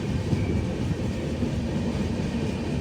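The Saraighat Express runs near Howrah with a steady, loud, dense rumble of rolling rail wagons heard close throughout, unbroken and without voices.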